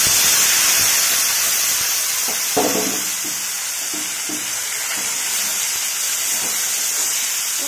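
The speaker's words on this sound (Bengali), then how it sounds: "পেঁয়াজটা ভালো মতন ভাজা হয়ে গেছে এবার আমি আলু আর বেগুনটা দিয়ে দিচ্ছি" Potato and eggplant go into hot oil after fried onion, giving a continuous loud sizzle and hiss with scattered stirring clatters and light utensil knocks throughout.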